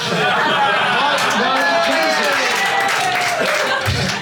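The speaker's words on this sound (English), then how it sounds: "And you're right to applaud that" Audience at a British stand-up comedy show breaking into sustained applause and clapping, a dense steady wash of many hands with crowd chatter and laughter mixed in throughout.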